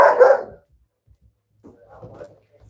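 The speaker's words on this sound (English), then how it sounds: "I'm not helping you calm that dog down" A pet dog gives a sharp bark at the start, followed by a quieter muffled bark or whimper after a pause, close by indoors.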